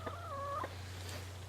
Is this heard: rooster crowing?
yes